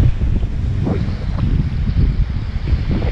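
Steady, buffeting wind rumbles loudly and continuously on the coast at Dashwood Bay, Kangaroo Island, during a sea kayak trip, with no voices over it.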